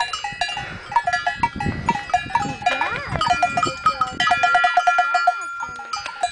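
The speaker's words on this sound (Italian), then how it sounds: "in mezzo alle capre" Goats in a mountain pasture at 2000 metres, with cowbells clanking repeatedly and goats bleating close by in a busy, continuous mix of ringing bells and animal calls.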